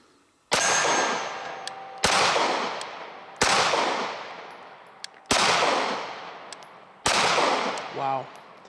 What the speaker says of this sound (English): I have not shot this pistol yet, but Beretta Sr. says it's a little snappy, so let's try this out.